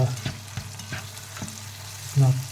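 Onion frying in a pan at medium heat for polenta, a steady soft sizzle with occasional stirring scrapes, close and alone without talk.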